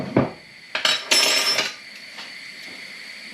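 Salt and sugar stirred into water in a pot: a few clinking and scraping spoon strikes against the metal pot, close and fairly loud, concentrated in a short burst before fading to quiet.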